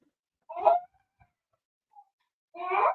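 A dog whimpers and yowls in two short, strained cries about two seconds apart, fairly close, with near silence and a faint squeak between them.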